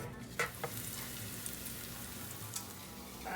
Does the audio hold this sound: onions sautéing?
yes